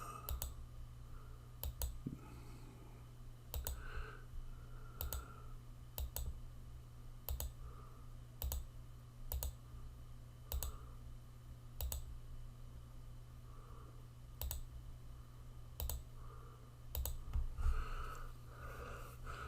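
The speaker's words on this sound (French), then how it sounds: "Je clique à l'extérieur pour faire l'autre côté de la croix." Sharp computer mouse clicks while drawing in Illustrator, single and double clicks spaced irregularly over a steady low electrical hum, close and fairly quiet, with no talking.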